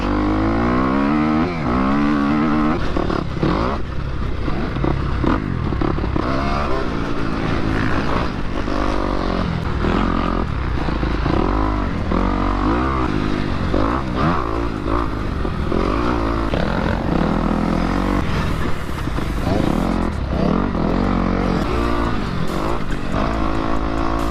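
A KTM dirt bike rips around an open-every-day motocross track near Houston, its two-stroke-style engine revving and shifting continuously and loudly for the whole stretch, with other engine noise mixed in and no talk.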